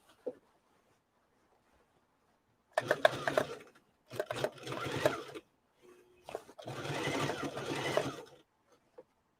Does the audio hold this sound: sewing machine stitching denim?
yes